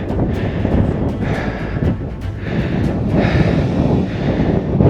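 Wind buffets the microphone on a mountain trail on the Tour du Mont Blanc, a steady low rumble and roar that swells slightly in gusts, loud and continuous, with no talking.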